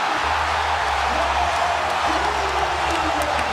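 Crowd cheering in an NBA 2K basketball video game, a steady roar of arena noise running continuously at moderate loudness, with a low engine-like hum and faint background voices underneath.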